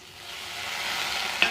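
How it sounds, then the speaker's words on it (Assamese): Banana flower pakora frying in a pan. A short, close sizzle swells in loudness, and a brief sharp clink comes near the end. "এতিয়া এইখিনি ভাজিম।"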